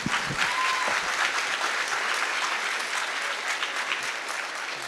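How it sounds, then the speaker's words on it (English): Applause at a high school graduation ceremony: dense, steady clapping from a large crowd on its feet, with a few louder nearby claps at the start, holding at an even level throughout. "Let's give another round of applause"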